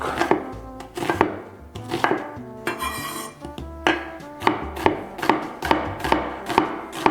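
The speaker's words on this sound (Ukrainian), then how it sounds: "Е, більш-менш тонесенько, однаковому, однакового розміру нарізаємо" A knife slicing onions thinly on a wooden board for a beef steak with caramelized onions, rapid close chopping taps in steady bursts with a brief scraping pause midway.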